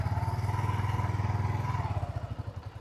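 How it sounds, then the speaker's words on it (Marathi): A Yamaha R15 motorcycle engine runs close by with a fast, pulsing throb that slows toward the end as the revs drop. "रेव करायची आहे गाडी"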